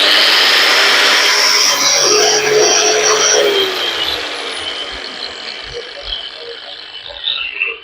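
A Dongcheng 125 angle grinder fitted with a double blade runs with a loud, steady high-pitched whine and grinding roar that gradually eases and fades toward the end, with no talk over it.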